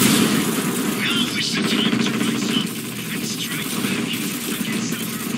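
Gunfire in the Ghost Recon Wildlands video game, fighting Santa Blanca cartel enemies: dense, continuous shooting and crackling fire running throughout, loud and busy, with voices talking over it.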